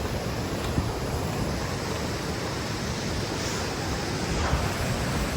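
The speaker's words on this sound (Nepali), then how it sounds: "यही हो खोला चाहिँ" A river near Tatopani in East Rukum, Nepal, rushes steadily in a continuous broadband wash of water, loud and close, with no talk and no breaks.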